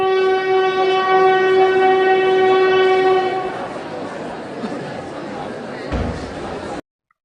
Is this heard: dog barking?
no